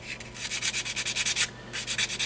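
Sandpaper rubs a small plastic motorcycle part from a model kit in quick, rhythmic strokes, about a dozen close scratchy passes with a short pause midway.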